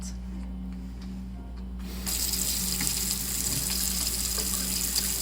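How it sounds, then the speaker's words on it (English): Tap water runs steadily into a sink while hands are washed with soap, a continuous hiss that grows louder and brighter after about two seconds, with no talking. "who's ready to wash their hands with me? Always remember to wash your hands prior to cutting any type of fruit, vegetable, or meat."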